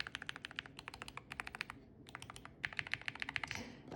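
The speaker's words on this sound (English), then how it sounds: "I always heard this slightly high-pitched tick whenever I press the arrow keys." Arrow keys pressed repeatedly on a Nuphy Air96 V3 keyboard, rapid bursts of light, high-pitched ticking clicks in quick rhythm, close and fairly quiet, with a brief pause midway.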